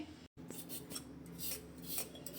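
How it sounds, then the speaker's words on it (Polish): A knife slices a carrot into strips on a kitchen board, giving soft, close scraping and rasping strokes in a steady series after a brief cut-out, quiet and without talk. "Najpierw sobie takie paski tnę marchewkę."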